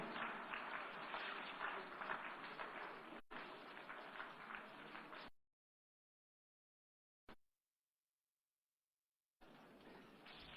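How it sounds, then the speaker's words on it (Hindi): An audience applauds at a Haryana Police ceremony on the Madhuban police ground, where the force receives the President's Colour. The clapping is dense and sustained, breaks off into silence, then resumes near the end. "आइए तालियों की गड़गड़ाहट के साथ इस शानदार क्षण की सराहना"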